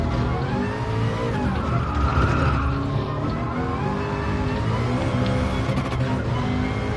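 Nissan turbocharged race car in Gran Turismo Sport, engine held high and buzzing continuously against the rev limiter with a steady droning whine and slight stuttering, loud and close throughout.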